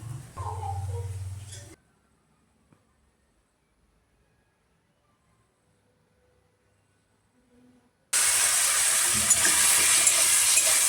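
Masala mushroom and rice fry in a pan: a faint murmur at the start gives way to a long near-silence, then a loud, dense sizzle bursts in and holds steady to the end.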